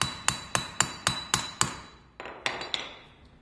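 Metal punch hammered through folded bike tire rubber while making a key chain: seven sharp, evenly spaced strikes, a brief pause, then four more blows, close and loud with no talking.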